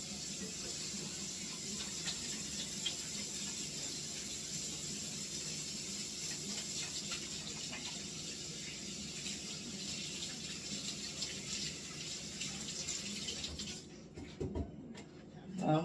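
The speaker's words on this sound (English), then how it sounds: "I'm going to wash my hands real quick." Steady broadband hiss of water running from a kitchen tap during handwashing, continuous and fairly close for most of the stretch before cutting off near the end with a brief clatter.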